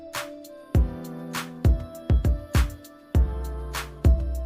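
Punchy trap beat played back from music production software, with booming 808 bass, hard kicks and crisp claps and hi-hats in a steady loud rhythm, no voices.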